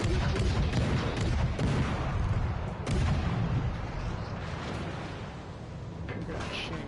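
Naval artillery shells firing and exploding in a WWII battleship game set at the Denmark Strait during the hunt for the Bismarck, heavy booms and rumbling blasts with voices talking over the din.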